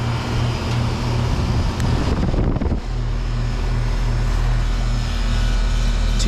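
A 2011 Luxaire LX heat pump with a Bristol reciprocating compressor running in heat mode, a steady close low hum with a fan whoosh, a brief disturbance partway through, then a settled even drone.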